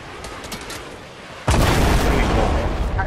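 An in-game missile strikes in a shooter match, an abrupt loud boom that cuts in halfway and rolls into a dense, lingering rumble after quieter gameplay noise.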